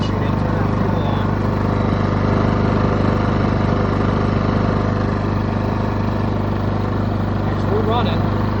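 A Westinghouse iGen5000DF dual fuel inverter generator running on propane, a steady droning engine hum with a strong low tonal buzz, close and constant throughout, with a voice speaking over it.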